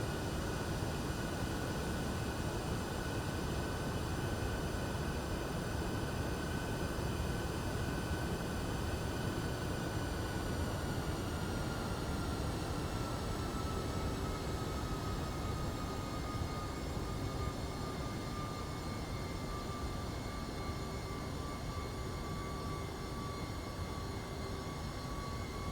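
Steady jet engine whine and rumble from an MD-11 airliner taxiing at Leipzig in a flight simulator, a constant broad roar with a thin tone that slowly falls in pitch, no talking.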